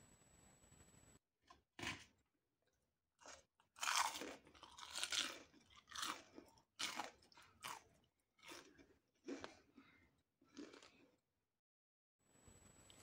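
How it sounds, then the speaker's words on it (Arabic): Crispy fried zalabia dough is bitten and chewed close to the mic, making a run of sharp, dry crunches with brief quiet gaps between them. "زي ما انتوا سمعتوا مقرمشة طبعا ازاي، مقرمشة جدا من بره ومن جوه مفرغة"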